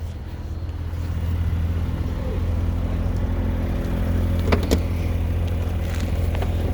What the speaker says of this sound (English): Car's been sitting here idling for not too long.